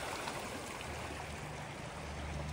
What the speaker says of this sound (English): You got the water running down this way.